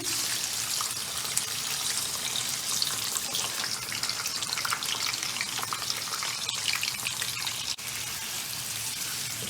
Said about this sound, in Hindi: और साथ ही चिकन डाल के इसको भून लेंगे।